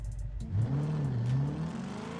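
BMW X7 M60i accelerating hard during a test run, its engine note rising and swelling in a loud, continuous rev that climbs steadily with no talk over it.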